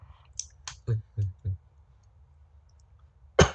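A handful of sharp computer mouse clicks, three close together in a quick run and another isolated click at the end, dry and near with no talking over them.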